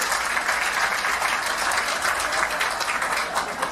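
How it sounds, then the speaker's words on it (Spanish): A crowd at a documentary screening event gives students a loud round of applause, dense continuous clapping lasting throughout. "Un fuerte aplauso para esos estudiantes."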